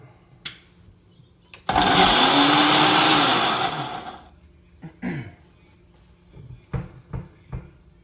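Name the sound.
electric blender blending banana pancake batter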